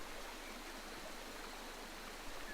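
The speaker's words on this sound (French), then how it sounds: "Une cascade." A waterfall gives a faint, even rush of falling water, a steady broadband hiss that holds unchanged for a few seconds with no voices.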